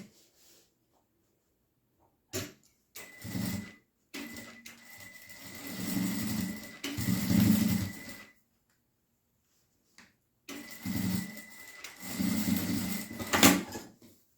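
A sewing machine stitches the side seams of a small trapezoid fabric box in several bursts of rapid whirring, close up, separated by silent gaps and a few sharp clicks from handling.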